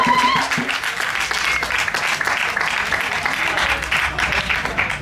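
Audience at the Watchet Music Festival gives a performer a round of applause, with dense, sustained clapping that stays steady and fairly loud for the whole stretch.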